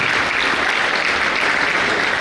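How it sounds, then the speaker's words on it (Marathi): Sustained applause from a seminar audience greeting the arrival of an MLA, a dense steady wash of clapping filling the whole moment at even loudness with no voices over it. "एकदा जोरदार टाळ्या त्यांच्यासाठी"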